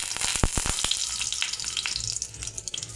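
Bay leaves drop into hot mustard oil and crackle with a few sharp pops, then a bright, continuous sizzle close to the listener.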